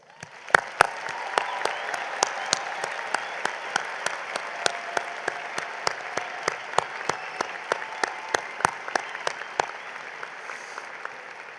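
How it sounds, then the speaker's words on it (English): Graduation audience at the NC State Fall 2024 commencement ceremony applauds the class of 2024, with steady crowd clapping throughout and a few sharp, close individual claps standing out above the wash. "everyone, please join me in giving the class of 2024 a congratulatory round of applause"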